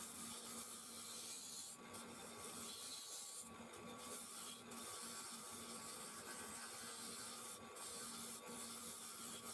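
Steady, even scraping and rubbing of a gouge taking light passes on a laminated winged wood bowl spinning on a lathe, continuous and moderately close with a constant motor drone underneath.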